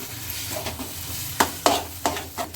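Aloo samosa filling frying in a pan, a low sizzle under sharp, repeated scraping strokes of a spoon stirring against the pan, several distinct clatters near the end.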